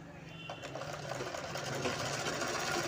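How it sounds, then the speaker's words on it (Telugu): Sewing machine stitching the hem of a blouse, a steady continuous whirring drone that holds at a fairly even, moderate level throughout. "ఈ విధంగా స్టిచ్ చేసుకుంటూ రావాలి"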